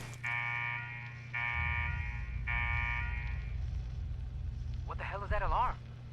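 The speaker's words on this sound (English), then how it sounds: "What the hell is that alarm? What's that noise?" A blaring alarm in the video game Fallout 4, Nuka World: a loud electronic tone in three repeated pulses, then a low droning hum, with a brief warbling siren-like burst near the end.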